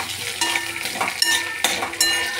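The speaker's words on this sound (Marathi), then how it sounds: "हा कढीपत्ता मी धुवून सुकवून घेतलेला आहे. हा आपण फ्राय करणार आहोत." Washed and dried curry leaves hit hot oil in a pan for chutney, giving crackling bursts and a steady sizzle with several sharp spattering onsets, close and with no talking.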